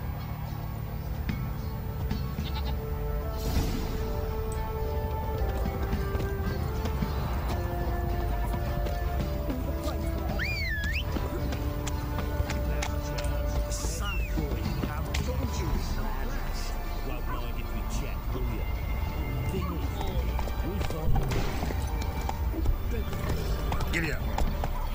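Horse hooves clip-clop at a run in The Witcher 3 video game, a steady galloping rhythm with an occasional neigh, set against game music and ambient sound, with a voice speaking at times.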